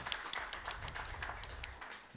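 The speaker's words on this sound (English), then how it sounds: "So a round of applause for Mr. Strom as Wareham's Man of the Year" Steady scattered clapping from a crowd at a town selectmen's meeting, fairly faint and distant, continuing throughout without voices standing out.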